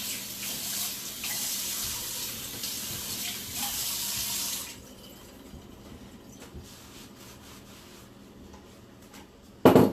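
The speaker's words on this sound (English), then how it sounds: "I'm just going to rinse off my cutting board real quick." A kitchen tap runs water over a cutting board for about five seconds, a bright close hiss, then stops, leaving quieter rinsing and handling clatter with a brief louder clunk at the end; no talking.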